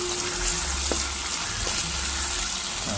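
Garlic frying in oil in a home kitchen pan, a dense continuous sizzle close up with a low steady hum underneath and a couple of faint taps, no talking.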